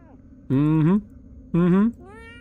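A cat in the video game Fears to Fathom meows while being petted: two clear, drawn-out meows about a second apart, loud and close against a quiet background.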